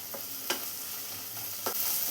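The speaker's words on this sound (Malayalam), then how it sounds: "ഒരു 15ഓളം വെളുത്തുള്ളിയും ചെറിയ പീസ് ഇഞ്ചിയും കൂടെ ചതച്ച് വെച്ചതാണ്. ഇതിന് റോസ്മെല്ലെല്ലാം ഒന്ന് മാറി വരുന്നവരെ ഒന്ന് വഴറ്റി കൊടുക്കാം" Crushed garlic and ginger sautéing in a pan, a steady soft sizzle with two or three sharper stirring scrapes, close and alone.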